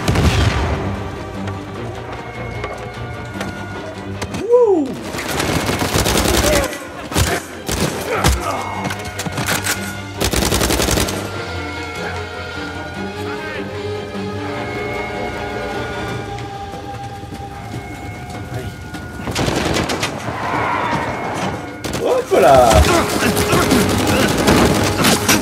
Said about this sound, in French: Ça tire dans tous les sens.